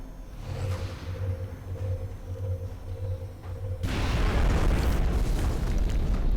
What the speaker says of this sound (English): we can now hit all enemies in the area with a shredder rocket